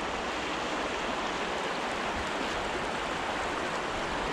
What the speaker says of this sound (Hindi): वो जो पानी वहाँ पर बहाव गिर रहा है ना